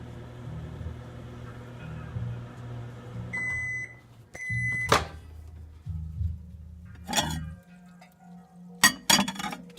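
A running microwave oven hums steadily, broken by a few sharp pops and clinks from inside, with a couple of short electronic beeps and clunks near the middle and end.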